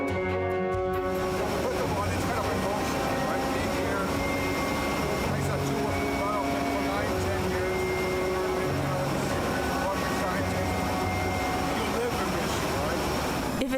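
Steady loud drone of an aircraft cabin 1,500 feet in the air, with engine hum throughout, a constant roar that never lets up, with faint voice-like sounds in the background.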